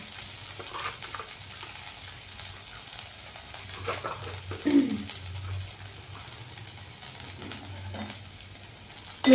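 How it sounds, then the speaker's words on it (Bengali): Garlic and minced ginger fry in oil for a scallion-leaf paratha meal, a soft, steady sizzle with occasional stirring while a bird coos faintly in the background. "রসুনটাকে একটু লাল লাল করে ভেজে নিতে হবে"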